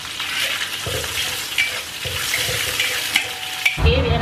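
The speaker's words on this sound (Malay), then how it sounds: "kita masukkan bawang merah dengan bawang putih. So kita tumis sampai bawang kita ni layu." Shallots and garlic sauté in a hot pan for an Indian dhal, with steady sizzling and frying crackle plus occasional stirring scrapes, loud and close, no talking.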